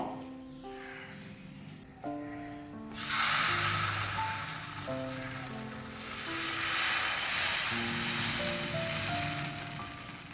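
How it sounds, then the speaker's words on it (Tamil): Adai batter made with yellow pumpkin hits a hot pan and breaks into a loud hissing sizzle that swells and then settles into steady frying, following a few quieter clatters, with no talking. "இப்போ நம்ம அடை ஊற்ற போகிறோம்"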